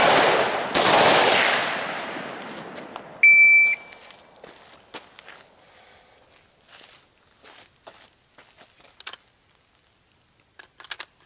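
A rifle fires at a target about 10 yards away, a loud sharp report with a long decaying tail, then a second shorter shot and a high beep, followed by scattered faint clicks and handling noise.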